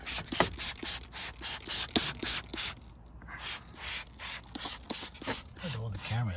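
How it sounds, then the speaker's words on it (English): Repeated brisk scrubbing strokes of a brush on a dirty car interior, close and rhythmic, with a short pause midway and a brief voice near the end. "I'm gonna hit it with a little brushy brush"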